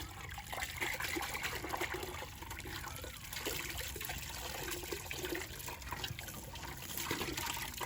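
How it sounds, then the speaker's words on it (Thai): Molasses is mixed and poured over straw as cattle feed, making a steady, continuous trickling and splashing of thick liquid that runs close by for the whole stretch with no talk. "เดี๋ยวผสมกากน้ำตาลลาดใส่ฟางให้รั่วกันนะครับ"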